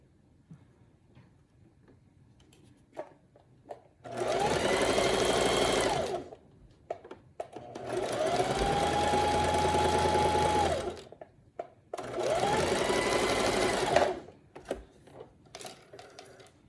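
Sewing machine stitching fabric for a stripper one-piece outfit, three close, loud bursts of rapid mechanical whirring stitching lasting about two to three seconds each, separated by quiet pauses with light handling clicks.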